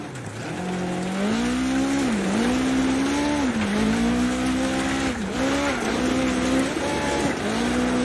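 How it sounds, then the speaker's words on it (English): Race car engine in a racing video game, loud and close, revving and wavering up and down as the driver kicks the clutch to hold a drift, with a brief squeal of tires. "So that's as simple as kicking the clutch."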